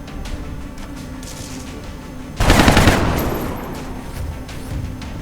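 Gunshots aimed at drones in XCOM: War Within ring out as a sudden loud burst of fire that rolls off into a fading echo, over a low ambient game backdrop.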